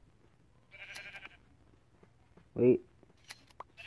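Sheep in Minecraft: Pocket Edition being sheared for wool, giving a short, loud bleat alongside shear clicks, set between stretches of someone talking.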